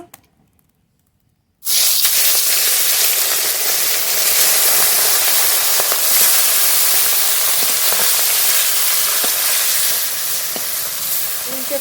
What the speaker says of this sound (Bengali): তেল খুব ভালো গরম হয়ে গেছে মাছ ভেজে ভেজে নেবো